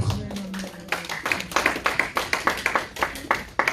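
A church congregation claps in praise of the Lord, starting loosely and then falling into a steady, rhythmic beat of sharp claps, close and fairly loud.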